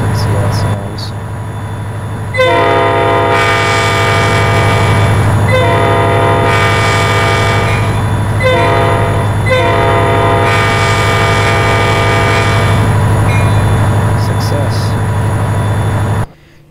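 A two-part diesel locomotive horn in the game Trainz blares in long two-tone blasts, several in sequence with short gaps, loud and steady over a low engine rumble.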